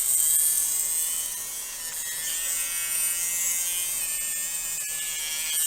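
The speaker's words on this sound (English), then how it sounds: "this is a Let's Resin electric drill." A small Let's Resin electric drill buzzes steadily while boring into polymer clay earrings, a thin high whine with a faint tonal hum, close and continuous for several seconds, with no talking.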